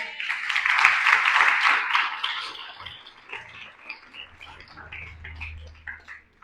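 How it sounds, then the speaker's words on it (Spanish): A church congregation gives a strong round of applause, crisp and fairly full for the first few seconds before thinning into scattered claps and fading out. "Denle un fuerte aplauso a Dios por la vida del muchacho."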